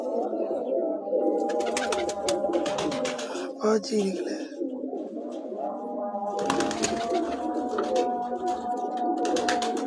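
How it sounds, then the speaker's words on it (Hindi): Pipla-breed pigeons coo repeatedly in soft, rolling calls close by, while someone talks over them and brief chirps break in. "बड़ा पीपट कबूतर माशाल्लाह सिकंदर भाई का, पिपला वाली ब्रीड।"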